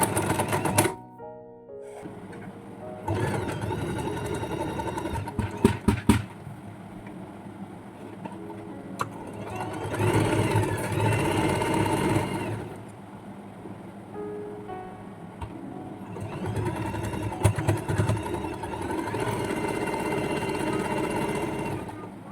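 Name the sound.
sewing machine stitching a fabric pencil pouch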